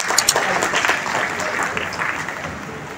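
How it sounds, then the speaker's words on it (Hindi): Audience applause at a drug de-addiction day event welcomes the deputy commissioner of South Andaman, a dense, steady burst of clapping from a hall crowd with faint voices mixed in. "जोरदार तालियों के साथ उनका स्वागत करें"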